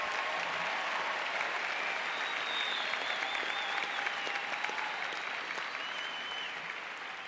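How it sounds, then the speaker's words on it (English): Sustained applause from a large audience at a university communication college spring convocation, honoring graduates; dense, steady clapping fills the hall throughout, easing off only slightly toward the end. "please join me in giving all of our graduates a major round of applause"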